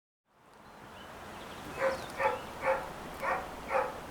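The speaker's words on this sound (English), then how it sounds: "and with Bud barking in the background, we're back." Dog barking five times in a steady rhythm, a few sharp woofs set back from the listener over a quiet background hum, with no talking.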